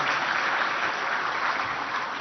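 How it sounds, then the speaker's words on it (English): At the 25th ICID international executive council meeting, the audience gives a brief, even round of applause, steady and muffled, as if heard from a distance through a live feed. "Can we have a round of applause for these two projects"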